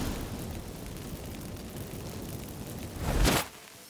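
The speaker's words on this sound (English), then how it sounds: "Get ready for some magic fireworks." In The Witcher 3 video game, activated incense sets off magic fireworks: a steady rushing hiss builds to a loud burst near the end, then cuts off abruptly.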